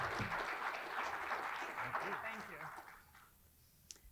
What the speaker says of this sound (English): We should give him another round of applause.